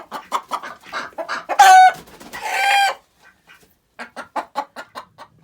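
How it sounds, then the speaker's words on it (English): Chickens huddled in a winter coop cluck close by in quick bursts, with a louder drawn-out squawk in the middle, then a run of short clucks. "all the chickens are huddled into a little corner"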